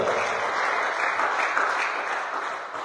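A church congregation applauding during a Sunday worship service, steady dense clapping from many hands that fills the space for the whole stretch without a break.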